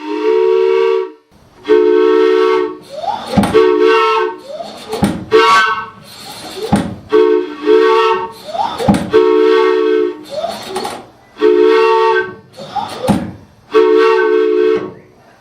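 A homemade three-chime boat whistle built from pipe fittings, including a 1.5 to 1/2 inch bell reducer and a tee, sounds a series of loud, chord-like blasts. About eight short toots repeat in an uneven rhythm, with clanks and clicks between them.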